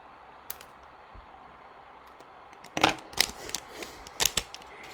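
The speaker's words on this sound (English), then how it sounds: "But I usually just take my scissors and cut it on over." Several sharp snipping sounds of scissors cutting Color Street nail polish strip packaging, close by, coming in a quick irregular cluster after a quiet start.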